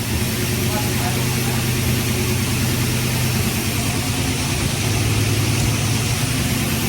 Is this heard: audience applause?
no